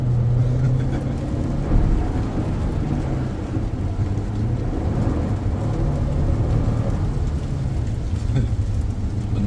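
A 2023 Toyota Highlander XSE pulls hard in third gear with its wheels spinning, giving a loud, continuous rumbling engine and road roar that stays fairly even throughout.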